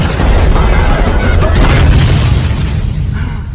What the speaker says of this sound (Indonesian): mereka diserang oleh tentara Burma dengan cara meledakkan seluruh desa di sana